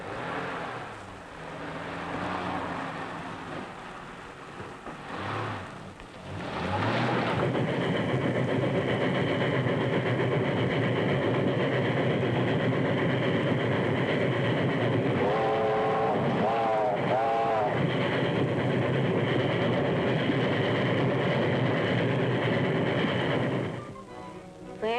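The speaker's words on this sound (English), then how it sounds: "That's the train." A passing train's heavy engine rumbles steadily and loudly for most of the stretch, with a faint voice near the start and a brief rising tone midway.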